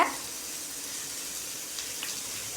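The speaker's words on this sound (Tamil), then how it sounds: "வெங்காயம் நல்லா வதங்கணும் உரப்புக்கு ஏற்ற மாதிரி பச்சை மிளகா போட்டுக்கோங்க" Sliced onions and green chillies fry in a pan for ragi adai, giving a steady close sizzling hiss with no talking.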